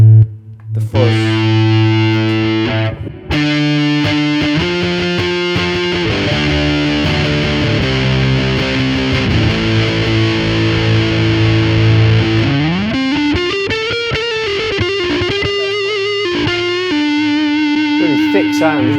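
Thick, fuzzy electric guitar through a Line 6 POD HD desktop fuzz effect plays sustained heavy notes and slides, loud and saturated, with no talking.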